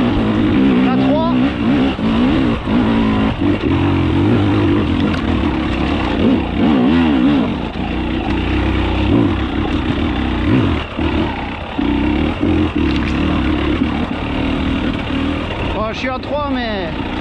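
A Husqvarna 300 TEi two-stroke dirt bike with a remapped ECU is ridden up through the gears. The engine revs loud and close, rising and dropping with each shift, and a rider talks over it at times.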